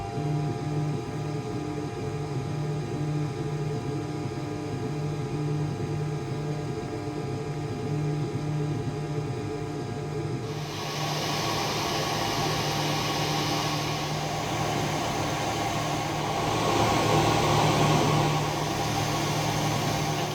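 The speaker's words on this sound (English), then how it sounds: "It's going to start engraving first." An xTool M2 laser machine hums steadily as it starts an engraving job, with a constant tonal drone and fan-like whir that shifts to a brighter, broader hiss partway through.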